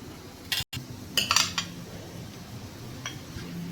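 A metal spoon scrapes around green bajri-flour dhokla sitting in a metal plate, giving a few short clinks and scrapes spaced over a few seconds, with no talk.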